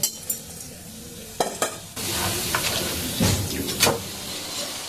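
Jhuri bhaja snack deep-frying in hot oil, a few sharp utensil knocks at first, then a sudden sustained sizzle with scraping stirs and clinks as the batter is turned.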